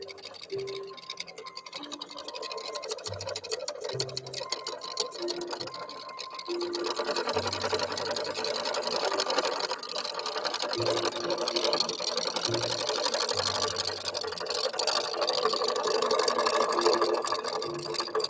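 A Janome Memory Craft 7700 QCP computerized sewing machine runs in short stop-start bursts at first, then settles into a steady, continuous whirring drone close by, with no voices.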